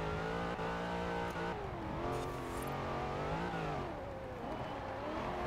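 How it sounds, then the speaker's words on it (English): Engine of a street car being raced off-road in Forza Horizon 4, revving hard and bouncing against the rev limiter with sustained droning harmonics that waver in pitch, steady and moderately loud with no talk. "you're probably always going to be hitting the rev limiter"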